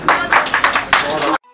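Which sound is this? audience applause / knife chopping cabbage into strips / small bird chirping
audience applause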